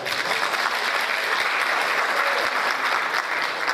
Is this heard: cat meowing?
no